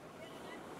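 Wind buffets a microphone in a brief, steady rush of broadband noise outdoors beside the sea, near where a basket boat is hauled up the beach, loud and continuous without clear talk.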